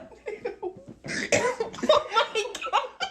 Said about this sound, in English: that was a vape cough right there